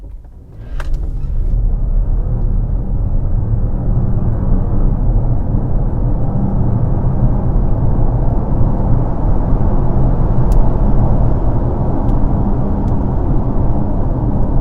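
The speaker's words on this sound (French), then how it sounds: "On va se faire un petit départ arrêté, voir ce que ça donne." A 2022 Volkswagen Touareg R with 462 hp launches from a standstill, its engine and road rumble swelling quickly after a quiet start and holding as a loud, steady roar to the end.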